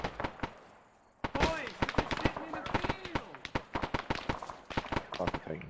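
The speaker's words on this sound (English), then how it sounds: "Taking shots pretty close." Gunfire from the video game Arma cracks nearby in rapid, irregular bursts and single shots after a quiet opening second, loud and sharp, with short echoing tails.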